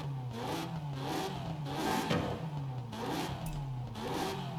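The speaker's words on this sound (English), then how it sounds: "This is a Ferrari engine." In Forza Horizon 5, an Aston Martin fitted with a Ferrari engine revs in repeated surges, its droning engine tone climbing and dropping several times, loud and continuous, with no voices.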